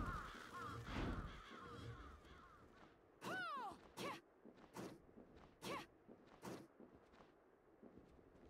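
Bird caws in the Bloodstained: Ritual of the Night video game, sounding as several short, sharp calls at irregular intervals over quiet game ambience, fairly faint overall.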